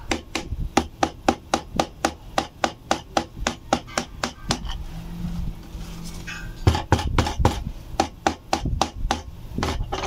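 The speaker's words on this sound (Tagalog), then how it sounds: "So dito sa likod niya, pupukpukin niyo lang siya." A stone is used in place of a hammer to pound the spine of a handmade book, producing a fast, even series of sharp close knocks. The strikes pause briefly, then resume in a quicker, irregular burst.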